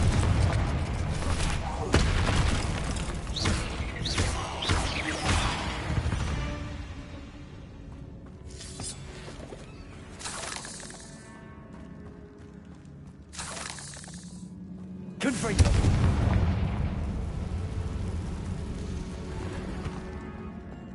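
Confringo fire spell explosions from Hogwarts Legacy: crackling, shattering blasts cluster in the opening seconds, fade to quieter game ambience, then another sharp loud burst erupts near the end, with some voice mixed in.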